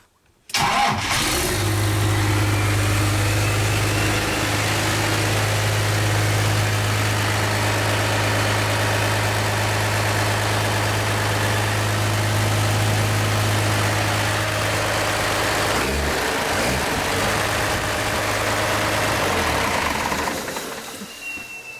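Cummins diesel swapped into a K30 Squarebody truck cranks and fires, then settles into a steady, loud, close idle with a deep drone for about twenty seconds before cutting off.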